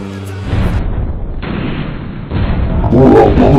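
Booming bursts of heavy gunfire and explosions aimed at the Tornado aircraft in a Sonic the Hedgehog scene, a continuous loud barrage that grows denser and more intense toward the end.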